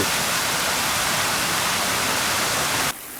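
Water from a stream pours steadily out of an urban concrete culvert into the Lybid river in Kyiv, a dense, loud, continuous rushing roar with no talk, dropping abruptly in level near the end.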